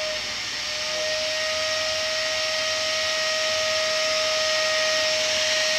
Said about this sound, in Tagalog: ang ingay ng vacuum